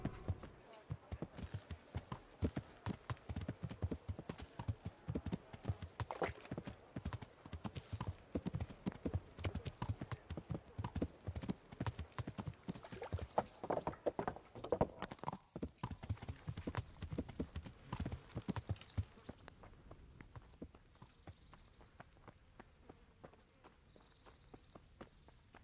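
Horse hooves clip-clopping in the medieval video game Kingdom Come: Deliverance, a steady walking rhythm of hard hoof strikes that carries on for most of the stretch and then thins out and grows quieter near the end.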